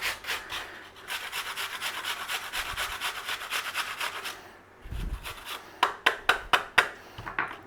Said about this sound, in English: grate your apple on top of your cabbage.